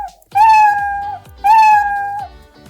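Two long, clear cat meows, each stretched out for nearly a second with a short pause between, close and loud with no talking.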